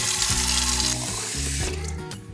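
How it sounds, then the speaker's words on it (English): Tap water gushes loudly into a half-gallon garden pump sprayer being filled for a neem oil mix, a rushing, splashing stream over background music. "and then fill this up with water"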